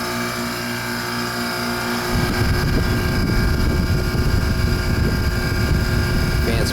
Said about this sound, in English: Fan's barely spinning.